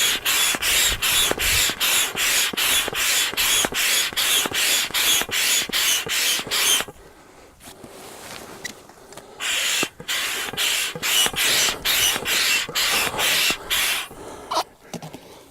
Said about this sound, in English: you're pumping the air in the valve and it's pumping up this pole going from corner to corner